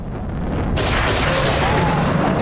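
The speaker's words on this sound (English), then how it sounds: "there's an explosion and bullets coming my way" Gunfire and an explosion in the Velvet Assassin video game, beginning as a low rumble, then a sudden loud burst into a dense, sustained blast of noise with a rapid crackle running through it.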